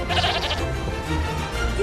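A sheep in an animated film bleats in a wavering, nasal cry, close and loud over a bed of background music.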